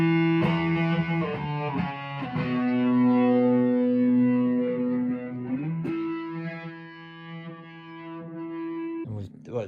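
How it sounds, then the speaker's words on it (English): Electric guitar driven through a Fulltone OCD overdrive into an old Marshall JTM 60 amp, thick distorted held notes and chord slides ringing loud and up close with some reverb, ending in a quick strum. "full tone OCD, and then we've been going into this Marshall, our ancient Marshall JTM 60"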